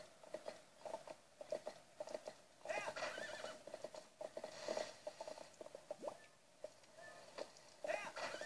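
The horse Epona whinnies and neighs in a Zelda video game, with soft hoof patter and game ambience around the calls, fairly close and moderately loud.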